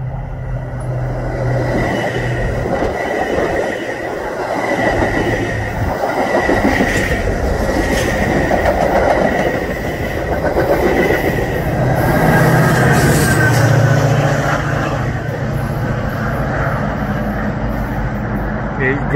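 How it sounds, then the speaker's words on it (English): A Metra commuter train rolls past near Union Station in Chicago, a steady loud rumble of railcars with metallic wheel squeal rising mid-pass, a voice speaking now and then over the noise. "I think it's a Metra."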